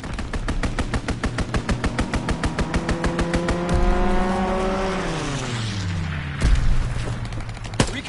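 Rapid machine-gun fire from a fighter aircraft's strafing run in a video game hammers in a fast steady rhythm for about four seconds. A loud engine roar then sweeps past with a falling pitch, followed by a couple of sharp impacts.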